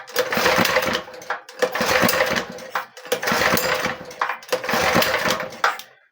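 A homemade mini tractor engine cranks repeatedly without catching: four rough, loud bursts of churning mechanical turning, each about a second long, separated by brief pauses, close and alone.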